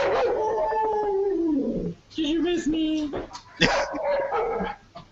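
A dog in a video gives long, wavering howls with a few sharper bark-like bursts, and people talk over and between them.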